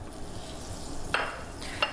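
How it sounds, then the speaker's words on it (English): A stick of butter melts in a frying pan over low-medium heat for a mac and cheese sauce, giving a soft, steady sizzle broken by a couple of sharp utensil scrapes. "So we wanna just melt the butter."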